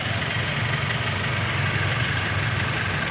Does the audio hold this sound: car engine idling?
yes